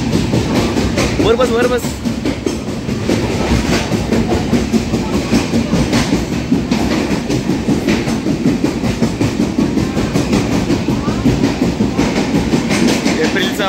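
A passenger train on the Konkan route to Sawantwadi rolls through a long tunnel with a loud, steady rumble and rhythmic clickety-clack of wheels heard from inside the coach, while people talk briefly over it.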